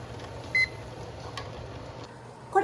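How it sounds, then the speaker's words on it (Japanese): Timer beep marking the start of a 75-minute pressure canning time for jarred meat, a single short electronic beep over a low steady background hum, with another brief beep at the end. "ここから今回の処理時間75分間のタイマーをスタートさせます。"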